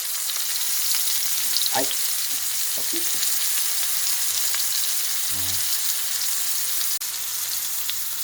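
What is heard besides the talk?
toasting Big Mac buns on a hot pan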